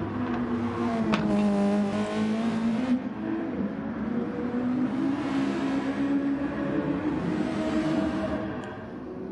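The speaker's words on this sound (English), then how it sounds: "This car's rolling on the track." Formula race cars in the GT Sport video game at the Nurburgring German GP run on track, a steady high engine whine with rising revs and a car sweeping past, loud and continuous.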